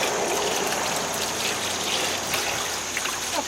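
Bleach poured into a container of water, a steady continuous liquid gush and splash lasting several seconds with no talking.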